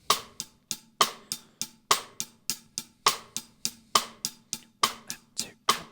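A drum kit played in a steady bossa nova hand pattern: evenly spaced sharp hits with regular accents repeat throughout, close and clear, with no talking.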